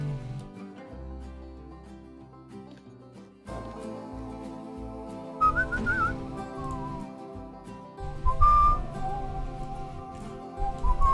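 A person whistles a tune in short melodic phrases while playing the zoo-building game Planet Zoo, moderately loud over game music and ambient background sounds.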